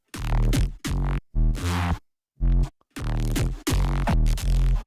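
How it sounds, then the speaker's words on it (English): Heavy growling neurobass synth stabs in a bass-design session, a series of loud distorted bursts with sharp gaps, two longer runs of rhythmic hits separated by a near-silent pause. "You've got neurobasses that sound like this."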